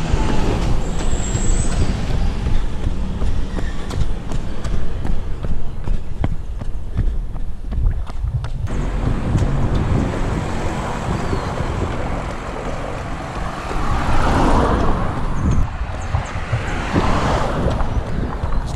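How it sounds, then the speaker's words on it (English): Road traffic in Mauritius heard by a runner heading against oncoming vehicles: a steady roar of buses and trucks passing nearby, with engines swelling and fading and a hiss like air brakes, and no voices. "Traffic can be a bit crazy here in Mauritius."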